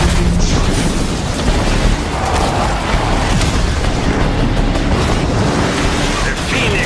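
Hellfire Mortar explosions in the video game RAGE 2 form a loud, continuous rumbling roar of blasts and debris, heavy low booms filling the whole stretch without pause.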